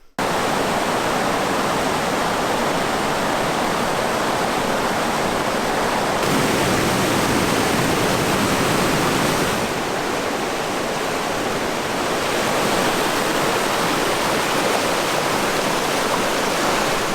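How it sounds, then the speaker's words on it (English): Canal Rapids on a wilderness canoe route, a series of drops heard as a dense, unbroken roar of rushing whitewater. It stays loud and steady throughout, with no voices. "There's a rapid up ahead here, Canal Rapids, that is, I think, a series of drops"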